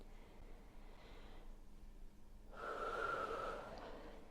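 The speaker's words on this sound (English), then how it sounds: "We're going to breathe in, lift the elbows as high as feels okay, and exhale, lower them down." Slow breathing during a seated arm-lift exercise: a faint inhale, a pause, then a stronger, longer breath with a soft, slightly whistling rush, close and alone in a quiet room.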